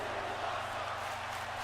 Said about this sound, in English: Crowd raucously chanting,